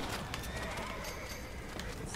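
A horse in the Western video game Red Dead Redemption neighs and whinnies over clip-clopping hooves and a dense, steady game background, with voices talking now and then.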